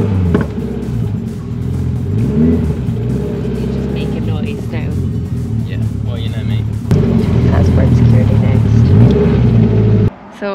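A Lamborghini engine revs nearby amid steady car engine noise and traffic, loud and continuous, with people talking over it and a brief drop near the end.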